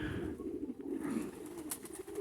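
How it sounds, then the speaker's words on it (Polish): Soft, low pigeon coos repeat through steady outdoor background noise, with a faint brief chirp near the end. "jakieś inne gołębie z daleka dostrzegą je i przyjdą"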